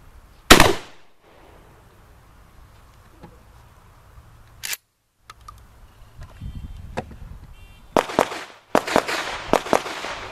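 A 12 gauge IAC Hawk 981R shotgun fires Remington reduced recoil law enforcement buckshot at a range, with two sharp, loud blasts followed by a cluster of clicks and clatter from handling the gun.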